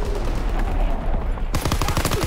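An artillery barrage score streak in the 2017 World War II shooter Call of Duty WW2, loud rapid gunfire and booming impacts in dense bursts, with a sharp burst of repeated blasts near the end.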